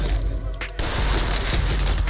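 Pistol fire in the Warzone video game: a few sharp, loud close shots in quick succession with a brief gap, dense and punchy, with voice chat underneath.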